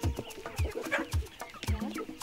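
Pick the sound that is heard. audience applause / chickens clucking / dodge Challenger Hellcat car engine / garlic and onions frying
chickens clucking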